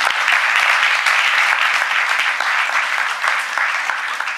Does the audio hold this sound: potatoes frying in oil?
no